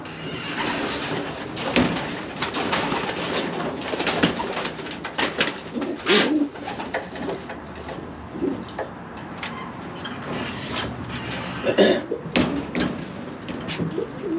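Pigeons coo repeatedly in a loft, soft low calls mixed with wing flutters and occasional sharp knocks, close and fairly loud.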